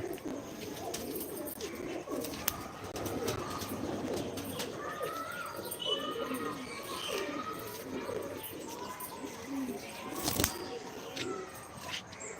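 Pigeons coo in soft, repeated low murmurs that overlap steadily, with occasional faint chirps and a single sharp knock partway through, all fairly quiet and without speech.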